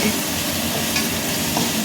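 A pan of poha tempering sizzles steadily up close while it is stirred, giving a continuous frying hiss with soft scraping and no voices.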